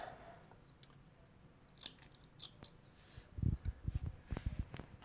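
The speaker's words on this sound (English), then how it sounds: "Cut one of my lead threads there." Scissors snip through sewing thread beside a Singer 252 sewing machine, a few quiet clicks and short cuts close by with light handling noise, no voices.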